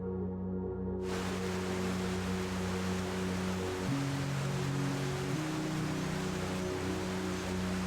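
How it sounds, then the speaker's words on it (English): Fall Creek Falls, a waterfall in Idaho's Caribou National Forest that flows into the Snake River, pours as a steady, dense roar of rushing water. Quieter low sounds come first, then the full, continuous wash takes over about a second in. "Fall Creek Falls flows into the Snake River within Idaho's beautiful Caribou National"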